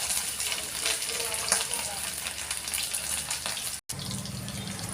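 Boiled potatoes fry in hot, smoking mustard oil in a pan, giving a loud, dense, steady sizzle close by with faint stirring clatter, broken by a brief dropout near the end.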